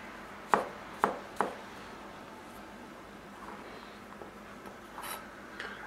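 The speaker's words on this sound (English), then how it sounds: "very finely chop the stems. I generally do them in slices like this first." A knife slices mushroom stems on a cutting board, with three sharp, close chops in quick succession near the start, then a few softer, quieter taps trailing off.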